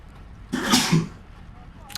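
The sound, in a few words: sneeze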